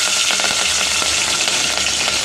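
Cumin, mustard seeds and chopped chillies fry in hot oil for a dhaba-style tomato curry: a loud, dense, continuous sizzle with rapid popping crackles, heard close and alone.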